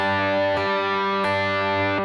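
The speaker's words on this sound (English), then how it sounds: "when I'm using hybrid picking, it's a combination of the flesh part of my finger there and my nail" Distorted electric guitar played with hybrid picking, pick and middle finger sounding two notes together, with three evenly spaced plucked attacks ringing out loud and close, no voices.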